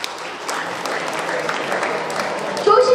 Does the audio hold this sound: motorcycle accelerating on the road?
no